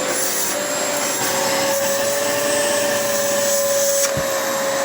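Hoover High Performance Swivel XL upright vacuum cleaner running on plywood, a loud steady motor roar with a high whine and occasional rubbing scrapes of the nozzle, no voices.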